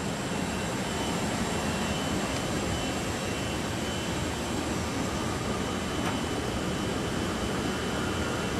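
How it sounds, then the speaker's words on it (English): A Weinig PowerMat 1500 moulder runs its motor during an automatic tool change, producing a loud, steady broadband whir and roar that stays constant throughout with no talking. "So it starts the motor. Doesn't necessarily come all the way up to full RPM."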